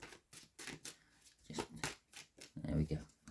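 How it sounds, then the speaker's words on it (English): A deck of tarot cards being shuffled, heard as a quick series of papery riffling bursts and flicks in an uneven rhythm, close and soft, with a quiet voice faintly underneath. "That's the shuffle."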